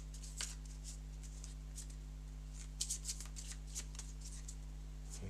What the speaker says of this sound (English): We'll give our weapon deck a shuffle as well.